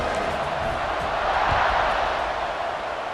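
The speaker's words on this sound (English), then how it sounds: "this crowd now ready to get behind them" Stadium crowd at a college football game in EA Sports College Football 26 roars steadily before a kickoff, a dense continuous wash of cheering that swells slightly midway with no clear voices on top.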